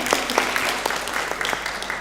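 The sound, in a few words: audience applauding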